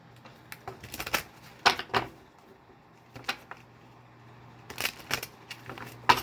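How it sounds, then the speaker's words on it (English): Oracle cards being shuffled and drawn, producing scattered soft flicks and taps in irregular clusters, close and quiet against a faint hum, with no talking. "We're going to pull a oracle card."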